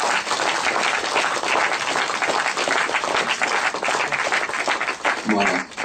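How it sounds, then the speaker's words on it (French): Audience applause welcoming a speaker at an Afrocentric Black Icon day event: dense, sustained clapping from a crowd, loud and continuous, with a voice rising briefly near the end. "j'aimerais qu'on applaudisse tous et toutes le grand sèche Rekmire Kovi Gomez"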